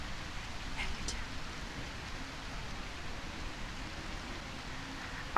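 Steady, soft rainfall hisses evenly throughout a scene in the A Quiet Place video game, faint and continuous with no voices.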